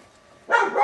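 A dog gives a single short, loud bark close by, following a moment of quiet.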